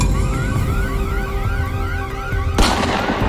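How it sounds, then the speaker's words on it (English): An emergency siren wails in repeated rising sweeps, loud and near, before a sudden burst of broadband noise near the end. "emergency siren po ari ruai ruai mai"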